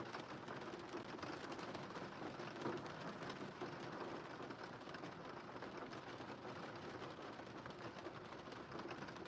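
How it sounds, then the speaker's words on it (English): Steady rain falls continuously at even loudness, a dense hiss of drops on surfaces with no talk and no clear thunder. "We were getting consistent rain."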